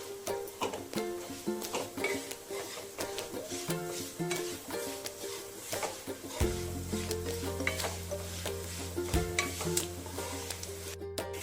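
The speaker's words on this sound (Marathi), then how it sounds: "हे पोहे आपण जसे भाजत जाऊ तसे खुसखुशीत होत जात आहेत बघा" Poha flakes are roasted in a pan, a spoon scraping and stirring in quick irregular strokes over a faint dry sizzle, close up; a low steady hum joins partway through.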